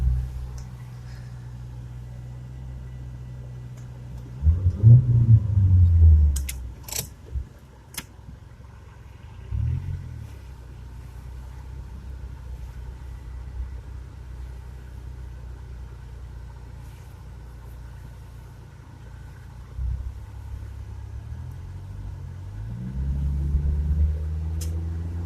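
Low engine rumble fills the cabin of a Chevrolet Chevette on the move, swelling with a couple of throttle surges and then settling to a steady drone.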